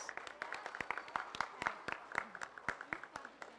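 An elementary school audience at an honor roll assembly claps for students, with sparse, fairly quiet hand claps ticking along irregularly.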